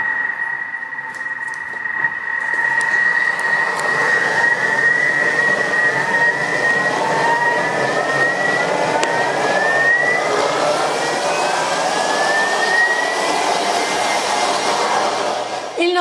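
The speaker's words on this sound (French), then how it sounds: "Et nous allons mixer le tout 1 minute." Blender running at maximum speed to purée vegetable soup, a loud continuous whirring motor whose pitch slides and wavers as the contents churn, lasting the whole stretch.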